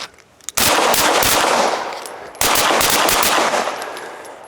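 Rapid pistol fire during an FBI pistol qualification stage, two loud bursts of close, sharp shots in quick succession, the second starting about two seconds after the first, with ringing range echo between them.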